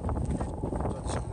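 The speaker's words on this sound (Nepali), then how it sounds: "हावा धेरै चल्छ हजुर" Strong wind buffets a microphone on the Everest Base Camp trek, a steady low roar of rumbling gusts, loud and close throughout the brief moment, with no voices.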